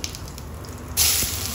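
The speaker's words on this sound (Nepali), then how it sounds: "अब चाहिँ म थोरै जिरा पड्काउँछु पहिला।" Cumin seeds hitting hot oil in a pan while cooking chicken gravy, a sudden loud hiss bursting in partway through and continuing as a steady spluttering sizzle.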